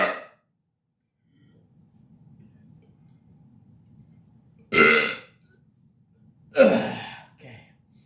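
Two loud, deep burps close to the mic, each a drawn-out guttural belch about two seconds apart, after a quiet stretch with faint low rumbling; a shorter trailing burp sound follows the second.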